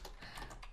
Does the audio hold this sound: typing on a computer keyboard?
yes